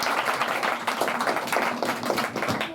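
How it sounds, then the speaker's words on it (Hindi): An audience claps at a school Independence Day program, a crowd's uneven patter of hands that stays fairly near and steady throughout. "यहाँ आके सब तालियां बजाएंगी।"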